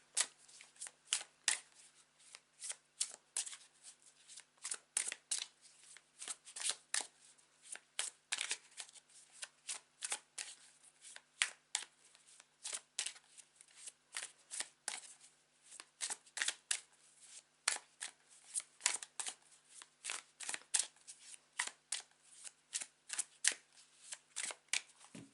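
A deck of Tarot of Oppositions tarot cards is shuffled over and over, a steady run of crisp riffling and flicking bursts, close and fairly quiet, with no voices.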